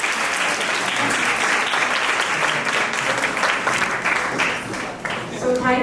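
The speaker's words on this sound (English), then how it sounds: "Round of applause, please." A dense, sustained round of applause from delegates at the close of a panel session on Montessori education, steady and loud throughout, with a voice emerging near the end.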